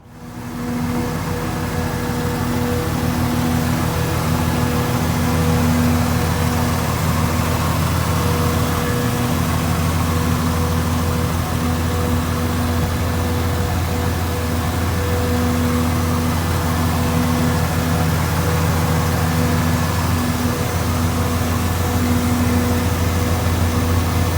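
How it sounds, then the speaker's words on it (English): A steady, loud 1972 Chevrolet Monte Carlo engine runs continuously at idle, a deep even rumble with a constant hum throughout. "I'm gonna go ahead and crank the engine up"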